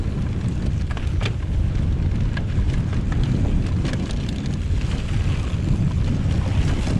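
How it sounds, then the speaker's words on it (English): Steady wind buffeting the microphone outdoors on moorland singletrack in the North York Moors, a broad continuous roar with gusty low rumble and no voices. "A bit windy."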